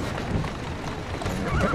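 A horse whinnies close by in the video game Assassin's Creed Syndicate, with a short burst of neighing over rough, noisy background and hoof movement, loud and brief.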